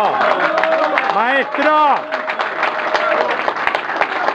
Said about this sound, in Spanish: ¡Aplausos! ¡Bravo!